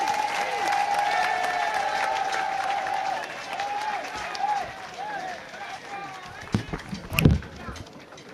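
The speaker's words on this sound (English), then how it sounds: "We want to appreciate the Vice President better with a clap." An audience applauds the Vice President at a formal gathering, with clapping swelling near the end while voices carry over it.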